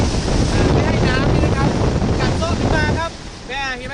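Strong sea waves at a beach shoreline with sandbags, surf and wind buffeting the microphone in a loud continuous roar, while someone talks over it.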